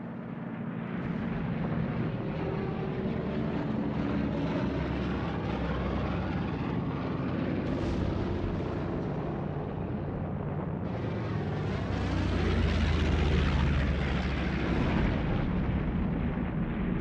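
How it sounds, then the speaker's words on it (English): A dense roar of aircraft engines as Japanese bombers and torpedo planes attack in a wartime reconstruction of the strike on Malaya, sustained and loud with a swelling surge near the end and no talking. "The battleship Prince of Wales and the battlecruiser Repulse were sunk by Japanese bombers and torpedo planes"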